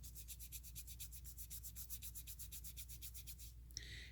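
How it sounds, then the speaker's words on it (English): Hands rub steadily back and forth over wet wool fibres while felting a petal shape, giving a soft, close, rhythmic rasping with about twenty even strokes and no talking. "And then I rub my hands together,"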